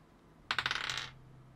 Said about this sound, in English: Shake the dice good.